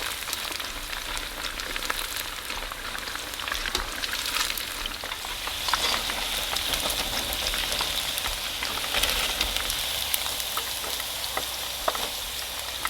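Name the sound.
tofu frying in oil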